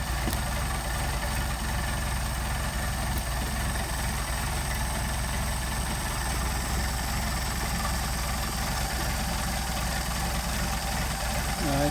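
A Mercedes 190SL engine with Solex carburetors idles low at about 550 RPM, a steady even rumble with a fine rhythmic pulse, close and continuous throughout.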